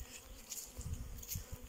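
Honeybees buzz on a winter cleansing flight near the hive in late December, faint droning passes rising and falling over a quiet background, with no talk.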